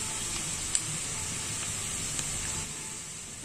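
Whole spices such as cinnamon, cardamom and bay leaf with ground coriander and turmeric sizzle in a hot pan, a steady close hiss with a couple of faint ticks.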